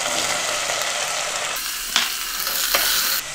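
Basella stems drop into potatoes frying in a pan, and a loud continuous sizzle changes tone partway through as they land, with a couple of stirring scrapes afterward.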